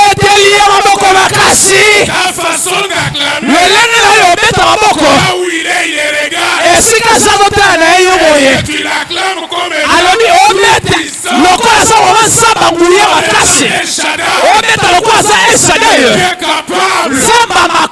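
A church congregation at a worship service cheers and acclaims loudly and continuously, a dense roar of many voices with shouts and whoops that swells and dips briefly before surging again.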